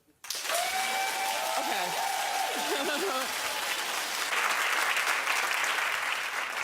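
A studio audience at a daytime talk show bursts into loud, sustained clapping and whoops, starting abruptly and holding steady, with a brief spoken word at the start.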